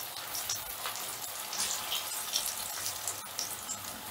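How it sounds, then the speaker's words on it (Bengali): Pumpkin koftas frying in hot oil as they are gently turned over, giving a soft, steady crackling sizzle with faint popping, heard alone at low level. "এবারে আমি উল্টে দিচ্ছি"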